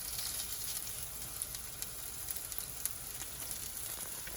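Sweet potato and tuna patties frying in oil in a pan, a steady, faint, crackly sizzle with small pops throughout and no talking.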